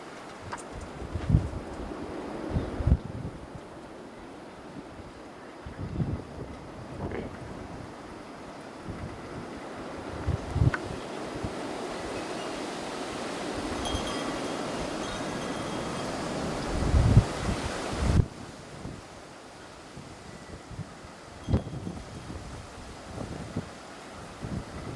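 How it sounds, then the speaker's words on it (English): Steady wind blows outdoors after a snowstorm, rumbling against the microphone with slushy, icy ground around, a broad continuous roar that swells in stronger gusts midway and keeps going alone without talk. "Yeah, it's pretty windy."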